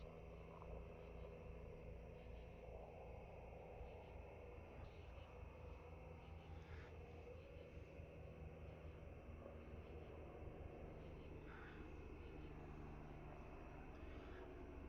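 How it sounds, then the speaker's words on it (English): A helicopter passes overhead outdoors at night, a steady low rotor and engine rumble filling the whole stretch at moderate loudness, with no talk over it. "Looks like we have a helicopter coming overhead."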